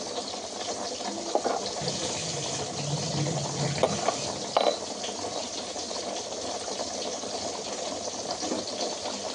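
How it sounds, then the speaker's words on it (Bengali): Water poured into a cooking pot set to boil, a steady rushing, bubbling wash with light clinks and rattles of the pot, fairly close and continuous without talk. "একটু জল দিয়ে দিই, তারপরে এটা ফুটিয়ে দিই।"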